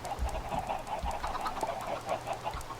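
Chickens cluck repeatedly on a Minecraft chicken farm, a steady stream of short, quiet clucks in a loose rhythm over low background hum, with no talking.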